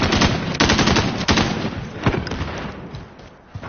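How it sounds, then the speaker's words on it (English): Cluster strike in a first-person shooter, rendered as a dense, rapid string of sharp blasts and cracks, loud and close at first, then thinning and fading away over a few seconds. "Allied cluster strike inbound."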